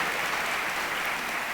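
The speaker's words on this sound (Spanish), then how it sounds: "Vamos a darle un aplauso a ellos, hermanos, por favor." A church congregation claps together in dense, sustained applause, loud and close, filling the space without a break or any talking.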